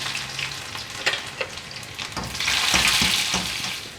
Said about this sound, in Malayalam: ജീരകം മൂത്ത് കഴിയുമ്പോൾ വെളുത്തുള്ളി ഇടണം